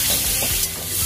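Chopped garlic with a pinch of salt stirred and fried in a pan, a loud, close, steady sizzle with soft scraping strokes and no talking.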